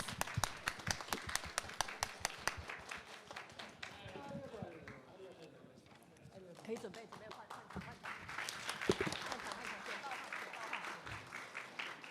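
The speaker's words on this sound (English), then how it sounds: "Please give them a round of applause." An audience at an open innovation event in Japan applauds after a group photo, dense hand clapping that starts strong, thins briefly midway, then swells again, with some talk mixed in.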